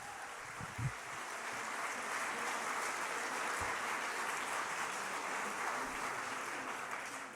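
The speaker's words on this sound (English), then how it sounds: "Please give him a big round of applause." A crowd applauds a congressman at an outdoor healthcare rally, a steady, fairly distant wash of clapping that holds evenly for several seconds, with a couple of brief low thumps near the start.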